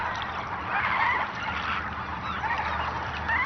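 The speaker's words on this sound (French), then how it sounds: "Toutes ces espèces, des ternes, des éders, des oies bernarches" A busy chorus of terns, eiders and brant geese calling over one another in Alaska, honks and cries blending into a steady outdoor din.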